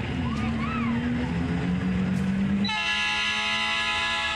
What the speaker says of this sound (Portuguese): Lá vem o trem, hein?